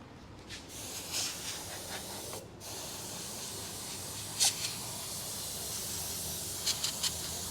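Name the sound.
spraying colour in the shop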